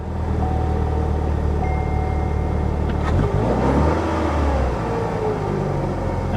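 A Saturn Sky's engine idles steadily after starting, with a brief rev and clunk partway through before settling back to an even running hum.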